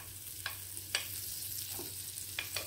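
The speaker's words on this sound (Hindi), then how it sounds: "पैन पर डालेंगे बटर।" Butter melts in a hot pan for a cheesy bread pudla sandwich, giving a faint, steady sizzle broken by a few sharp clicks and taps.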